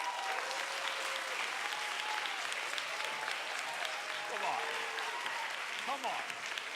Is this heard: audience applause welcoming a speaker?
yes